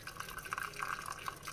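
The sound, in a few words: draining water from cooked dal into a bowl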